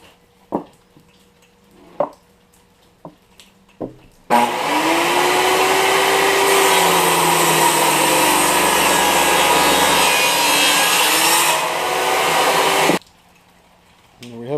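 A power tool bevels the edges of a teak wood jointer's mallet: a loud, steady whining roar that starts abruptly after a few light taps and runs for about nine seconds before cutting off.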